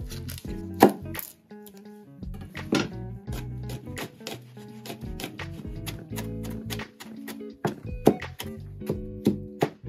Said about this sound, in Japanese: ニンニクはね、みじん切り